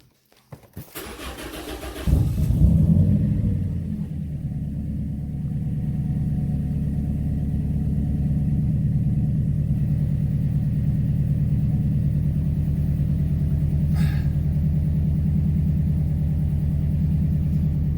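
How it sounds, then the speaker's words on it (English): A Toyota Corolla engine, car raised up, cranks briefly, catches with a loud flare, then settles into a steady low idle rumble that runs on unchanged close by. "I'm going to turn on the car while it's up."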